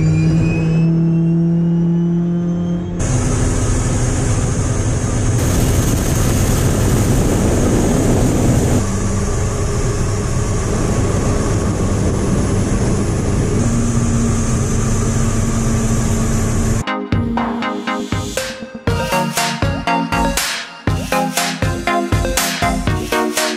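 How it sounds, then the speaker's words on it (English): A turbine-powered Batmobile's jet engine runs loudly and continuously with a high whining roar, shifting in pitch as it spools, then breaks into choppy bursts near the end. "today we're going to drive what is known as the world's only turbine-powered Batmobile"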